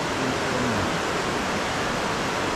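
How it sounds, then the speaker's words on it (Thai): Tad Khu waterfall near Paksong in southern Laos roars as a dense, constant wash of falling water, loud and unbroken with no voices over it. "ดีมันมีเสียงน้ำตก ถ้าไม่มีน้ำตกนี่โอ้โหดังเลยนะ"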